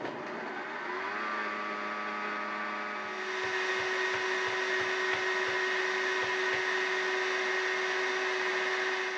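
A Vitamix blender loaded with fruit smoothie ingredients whirs up steadily, its motor pitch rising and then holding at a loud constant drone with a few soft knocks of ingredients near the start, no voices.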